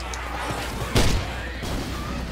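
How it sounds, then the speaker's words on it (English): A single sudden blast in the Left 4 Dead 2 game bursts out about a second in, a short loud boom over steady background noise, with faint game ambience continuing after. "I bet you heard that explosion."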